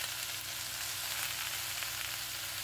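Spices are added to fried vegetables in a pan for a vegetarian spinach ghonto, giving a steady, loud, hissing sizzle that runs unbroken throughout with no talk.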